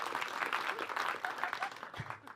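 An audience at a BAFTA event claps for a couple of seconds, a moderate scattered round of applause with some voices mixed in.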